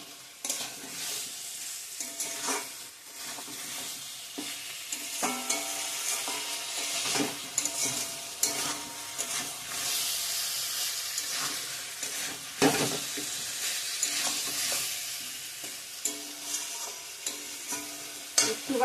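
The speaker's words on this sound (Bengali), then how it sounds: "ভালো করে কষিয়ে নিয়েছি মশলার সঙ্গে" Potatoes and pointed gourd, already fried, being sautéed with spices in a pan: a steady close sizzle with repeated scraping stirs throughout, no talking.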